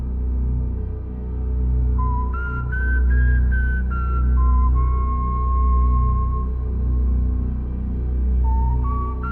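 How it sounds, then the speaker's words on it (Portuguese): Eerie whistling at night, a slow wavering tune of a few held and sliding notes that breaks off and then returns, heard over a low pulsing hum with no voices. "ouvimos o assobio."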